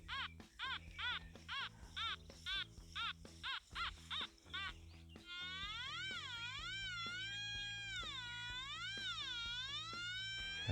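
Metal detector target signal tones at half volume, a run of short warbling beeps followed by a sustained wavering, sliding electronic tone, fairly loud and alone with no talk.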